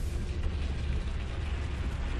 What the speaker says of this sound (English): Accidental explosion on the base?